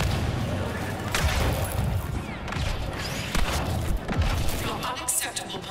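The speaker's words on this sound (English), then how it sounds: "How many grenades do they have, man?" Grenade explosions and blaster fire in Star Wars Battlefront II boom in quick succession, several sharp bursts over a busy battle din with voices underneath.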